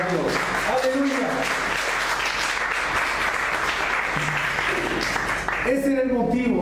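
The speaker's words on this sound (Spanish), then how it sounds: "Demos una ofrenda de palmas a Dios." A church congregation claps steadily and loudly throughout, a dense wash of applause with voices calling out and singing over it near the start and end.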